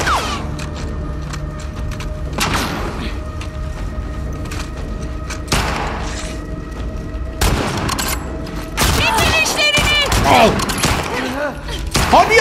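Gunfire in The Last of Us Part II, a zombie-hunting survival game, crackles in repeated sharp bursts and heavy booms, loud and close, with mechanical clatter between shots and a voice talking over the action.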